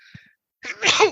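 A single sharp sneeze from a podcast host, loud and close, preceded by a faint short intake of breath and a brief silence.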